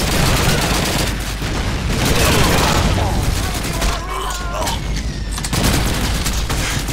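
Call of Duty 2 battle gameplay: a grenade blast and dense, continuous gunfire roaring loud and close, with a shouting voice partly mixed into the din.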